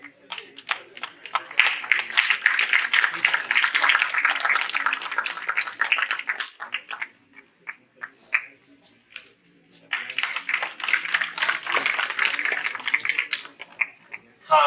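An audience applauds to welcome the chief guest at a golden jubilee function in Patna, with two long stretches of steady clapping separated by a brief lull, and a voice speaking around them.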